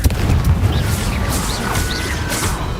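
A Confringo fire spell explodes in the video game Hogwarts Legacy, a loud, deep rumbling boom with crackling debris that fills the whole moment.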